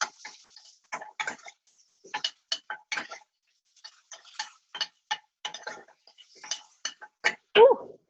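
Food is stirred in a pan with a utensil, giving sparse, irregular scrapes and light metallic clicks against the pan, fairly close and with quiet gaps between them.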